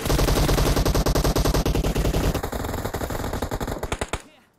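Sustained automatic gunfire from the mobile game PUBG Mobile: a dense, loud burst of rapid shots lasting about four seconds, the rhythm loosening toward the end before it stops.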